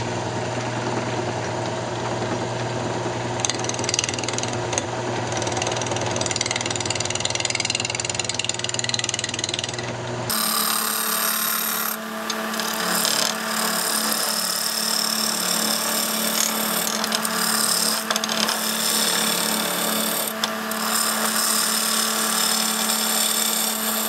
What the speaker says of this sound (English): we're going to turn a tenon on each end and then grab a hold of it that way